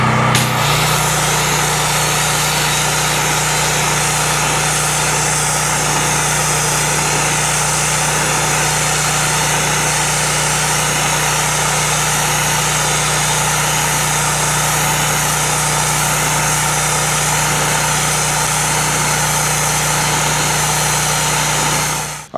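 Wet blasting machine removing heavy rust and pitting from an old tank, giving a loud, steady mechanical roar with a low hum that runs unbroken throughout.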